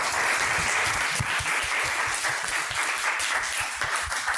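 Audience applause at a talk on French manga at a comics academy, steady, dense clapping from a crowd lasting the whole few seconds.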